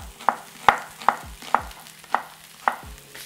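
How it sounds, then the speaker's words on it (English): Sliced onions dropped into a pan with a dash of oil, giving a steady low sizzle broken by about six sharp, evenly spaced clacks and scrapes as they are stirred, close and clear with no talk. "Into your pan, add a dash of oil, and then in with our onions."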